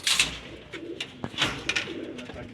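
Pigeons cooing on a rooftop, several soft throaty coos and wing flutters close by, with faint rustling and bursts of higher noise between calls.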